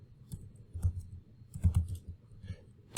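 Quick bursts of computer keyboard typing, close and clear, with irregular clusters of key clicks and short pauses as an ID is entered, no voices.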